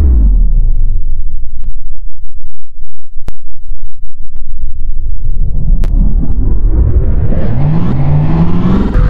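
A 2020 BMW S1000RR sport bike on a dyno, its engine dropping from a loud rev to a low rumble then climbing steadily through a long, rising wail to high speed, loud and close with no talk.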